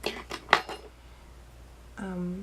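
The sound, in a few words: makeup pan popped out of Anastasia contour palette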